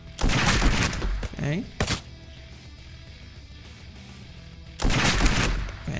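Bursts of gunfire from a weapon in the zombie video game Nearly Dead, loud dense volleys at the start and again near the end with a quieter stretch between, and someone speaking briefly over it.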